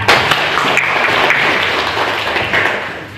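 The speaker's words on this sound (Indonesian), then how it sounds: "tepuk tangan untuk kita" A classroom full of people claps enthusiastically, steady dense applause throughout that tapers slightly at the end.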